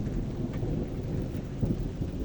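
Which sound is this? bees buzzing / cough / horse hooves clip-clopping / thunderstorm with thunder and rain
thunderstorm with thunder and rain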